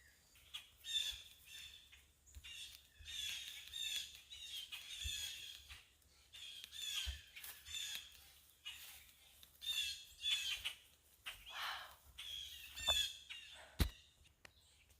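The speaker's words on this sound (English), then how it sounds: "Oh, there's blackbirds flying everywhere." A flock of blackbirds squawks and chirps outdoors in harsh, overlapping calls, with a steady chorus of many birds rising and falling throughout, fairly close and clear.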